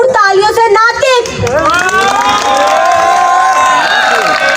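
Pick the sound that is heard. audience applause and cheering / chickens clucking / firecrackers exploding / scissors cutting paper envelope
audience applause and cheering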